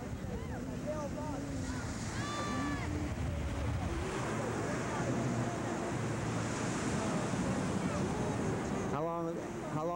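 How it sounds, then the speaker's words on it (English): Ocean waves wash onto the beach at Fripp Island in a constant, roaring surf buffeted by wind noise, with brief voices and a short chirp-like sound rising above the wash. "Yep, there's the ocean."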